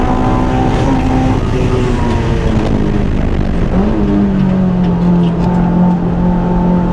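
Honda S2000 AP2 track car driving a lap, its engine droning loud and steady throughout with a rising tone near the end, heard up close from inside the cabin.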